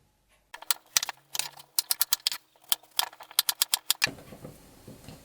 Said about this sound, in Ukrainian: Зараз буду кубиками нарізати ці кабачки.